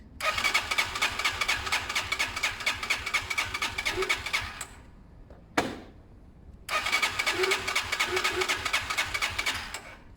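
A Zontes Mantis 125cc motorcycle engine cranks and runs in a steady mid-pitched churn, cuts out briefly near the middle with a sharp knock, then catches again and keeps running.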